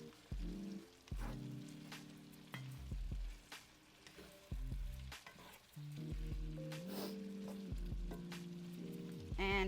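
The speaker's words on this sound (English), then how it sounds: "I'm going to go ahead and add my garlic. So this is probably about 4 cloves of garlic. Cook that down just a little bit." About four garlic cloves fry in hot oil with a steady, close sizzle, broken by brief stirring scrapes and short pauses, with no talking.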